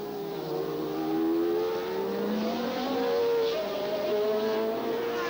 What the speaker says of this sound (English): And there is a turbocharged Ferrari, that of Pironi